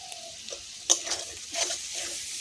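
Mushrooms frying in a pan with spices, salt and turmeric, a soft sizzle broken by a few sharp stirring scrapes, fairly faint and close, with no talking.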